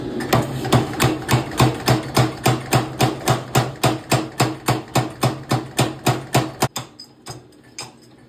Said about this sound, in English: I'm gonna be forging out that taper under my power hammer